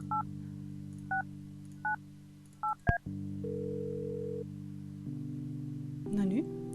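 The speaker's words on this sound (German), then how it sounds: "Komm, wir rufen nochmal an." Telephone keypad tones beep in the Kathy Rain video game, four separate dual-tone presses then a quick burst, followed by steady ringing and line tones.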